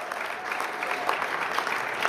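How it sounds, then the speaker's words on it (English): An audience at a State Department reception for African innovators claps in steady, even applause throughout the short stretch, dense and fairly close. "Please give Secretary Blinken and the State Department a round of applause."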